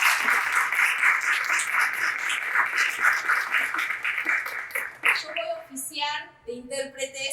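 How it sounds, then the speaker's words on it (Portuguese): Audience applause welcomes performers at a university theatre event, a steady broadband clapping wash for about five seconds before it fades into someone speaking. "les damos la bienvenida, un aplauso enorme"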